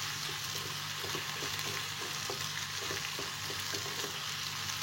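Ginger garlic paste fries in oil in a pan for a dhaba-style masala dish, a constant close sizzle and hiss with faint rhythmic stirring underneath and a low steady hum in the background.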